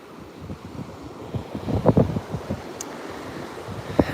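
Wind gusts buffet the microphone on a beach, with surf rumbling steadily beneath and a few sharper gusts peaking midway and near the end, no one speaking.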